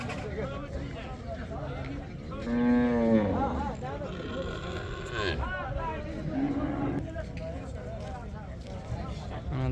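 Bulls mooing at a village livestock market in Afghanistan, several long low bellows rising over a steady crowd murmur and nearby chatter, close and fairly loud.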